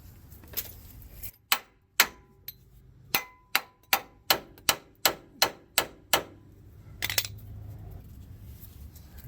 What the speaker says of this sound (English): we're going to have to use a hammer to knock this thing out